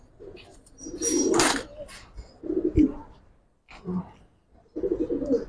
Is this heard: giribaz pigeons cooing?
yes